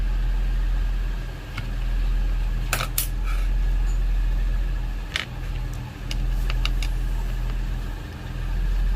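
A Toyota Lexus blower fan motor runs with a fault noise, giving a steady low hum and whir with faint scattered clicks and ticks, close up and continuous, no talking.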